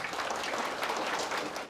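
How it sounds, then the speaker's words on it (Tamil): A large audience at the Madurai Humour Club's 35th anniversary celebration claps warmly for a guest being welcomed to the stage, a dense, even burst of applause that cuts off abruptly at the end. "ஒரு பெரிய கைத்தட்டலோட"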